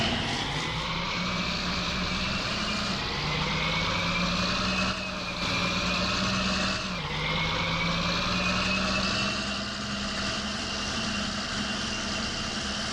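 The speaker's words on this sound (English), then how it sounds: "if we jump in the 4840 and we'll fire it up. got a really nice idle sound to it" In Farming Simulator 19, a John Deere 4840 tractor's diesel engine drones steadily at idle, its pitch dipping and rising a few times, loud and close with no talk.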